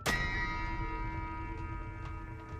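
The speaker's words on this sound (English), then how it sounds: "if you do something bad, a bell sound plays" A single metallic bell clangs in Red Dead Redemption 2 after a bad deed, struck sharply once and left to ring out with a long shimmering decay, with no talking over it.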